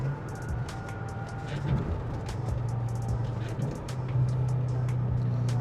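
A Mercedes E55 wagon converted to a six-speed manual drives along with a steady, loud engine drone, its pitch lifting as the car pulls through the gears, with road noise underneath.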